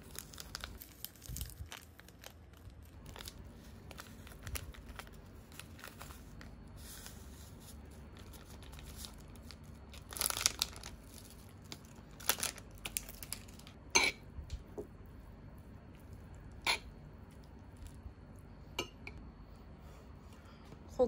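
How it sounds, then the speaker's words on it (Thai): Korean noodles and minced pork are tossed with seasoning, giving soft irregular crinkling, rustling and occasional light clinks of utensils, close and fairly quiet. "เราตักเส้นแล้วก็หมูสับขึ้นมาก่อนประมาณนึงเดี๋ยวจะใส่เครื่องปรุงลงไปคลุกเคล้าให้ทั่ว"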